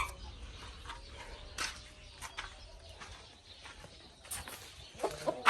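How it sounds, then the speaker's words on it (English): Chickens and cockerels, including a black Minorca cockerel, cluck in scattered bursts at moderate distance, with sharper squawks near the end, and no talking. "black Minorca cockerel."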